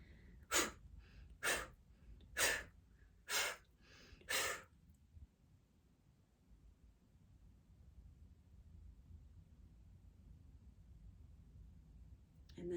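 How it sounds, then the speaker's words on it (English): Five forceful bellows breaths are pushed out through the mouth in an even rhythm, each a sharp loud rush of air, followed by a long quiet stretch of soft room noise. "let's do 5 bellows breaths"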